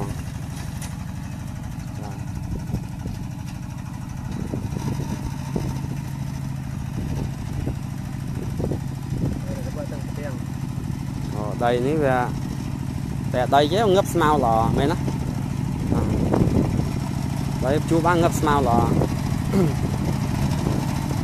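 A Cambodian tractor engine running steadily during testing on hard ground, a low continuous rumble underneath a voice speaking at intervals.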